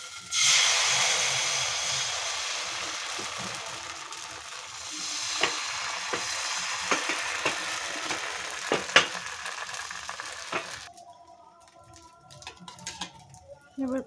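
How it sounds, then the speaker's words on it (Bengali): Batter sizzles and hisses in hot oil in a wok, a loud steady frying roar that swells after it is poured in, with scattered spatters and stirring clinks, then fades near the end. "ভাজার জন্য আমি কড়াইটা বসিয়ে দিয়েছি, এখন এতে একটু ব্যাটার দিয়ে দেব"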